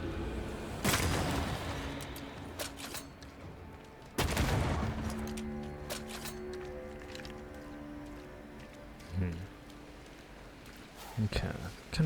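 Gunfire during a fight in the video game Banishers: Ghosts of New Eden, with sharp loud blasts around one and four seconds, smaller shots later, and lingering tonal game music between them.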